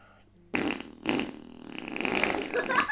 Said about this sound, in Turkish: Adam osurarak ara gaz veriyor.